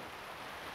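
Heavy rain pours down as a dense, steady hiss that stays close and unbroken through the brief moment.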